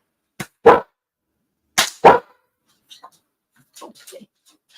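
Dog barking in short bursts at home, two pairs of sharp loud barks close by followed by fainter scattered yips and quieter sounds, with silence between.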